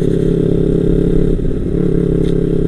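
Kawasaki Ninja four-cylinder motorcycle engine revving steadily and loudly up close, a continuous throaty drone with a brief dip and recovery midway and no voices.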